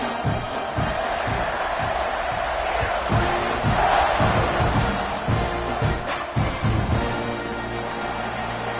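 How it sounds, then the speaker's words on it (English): Stadium crowd in a college football video game roaring steadily before a kickoff, a dense continuous cheer with rhythmic thumps and occasional whoops rising in the middle. "this crowd now ready to get behind them"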